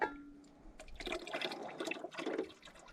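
Leftover hydraulic oil draining from the lines of a New Holland TC45 tractor, a faint liquid trickle and splash in short bursts, close by and without talk.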